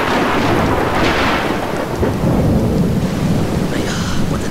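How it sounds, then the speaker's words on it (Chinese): Heavy rain in a TV drama scene, a loud dense downpour with rolling thunder rumbling underneath throughout, steady and close with no speech. "这么大的雨水一连下了五六天"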